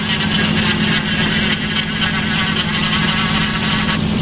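An electric motor runs a hydraulic pump on an old homemade snow plow, giving a steady loud drone and hum that holds constant throughout.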